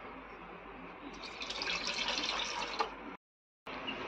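Water poured from a tap into a cooking pot over ginger-garlic paste while preparing goat intestine curry in a home kitchen, a steady close rushing stream lasting about three seconds, then a brief cut before the flow resumes.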